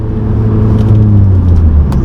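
A 2015 Volkswagen Golf GTI engine held at high RPM while making boost, a loud, steady close-up whir and rumble with no talk.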